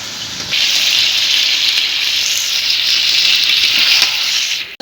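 Meat sautéed with spices and cardamom powder in a pan in a home kitchen gives off a loud, steady, close sizzling hiss. The hiss holds evenly for several seconds and then cuts off abruptly.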